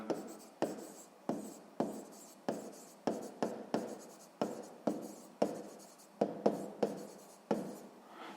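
Pen strokes scratch steadily across paper as a sixth-grade math problem is worked out, a dozen or so brisk close-up strokes in a regular rhythm with no talking.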